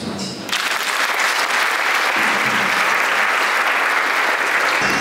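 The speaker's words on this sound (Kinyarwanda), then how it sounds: "Reka tunamuhe amashyi twakira." Loud, sustained applause from a gathered audience at a handover and farewell ceremony, dense clapping starting abruptly after a brief quiet moment and continuing evenly for several seconds before stopping.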